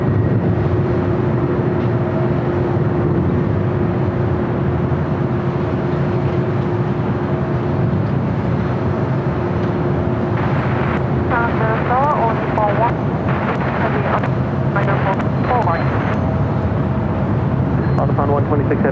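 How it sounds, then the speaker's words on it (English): A Northern Air Cargo Boeing 767 jet accelerates down runway 25R at LAX for takeoff, a loud, steady engine roar sustained throughout, with radio chatter and brief clicks and chirps layered over it in the second half. "Northern Air Cargo 767 now rolling down at 25 right."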